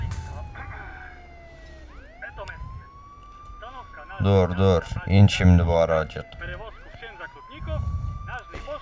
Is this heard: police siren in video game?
yes